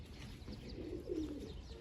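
Faint, low pigeon coos roll softly over a quiet background hum, with one fuller coo rising near the middle.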